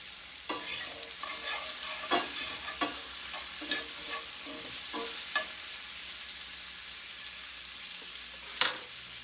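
Half an onion sizzles with bacon in a frying pan, a steady soft hiss of frying broken by irregular scraping stirs and clicks of a utensil, close and fairly quiet.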